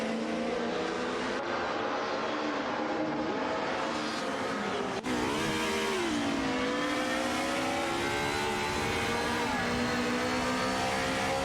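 Race cars battle for position in an AI-driven racing video game, engines droning continuously with rising and falling pitch as they rev and accelerate, loud and steady throughout with several engine tones layered together.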